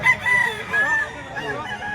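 At a chicken market in Lipa, Batangas, a rooster crows among other fowl, its call mid-distance under the general bustle, with a voice speaking nearby.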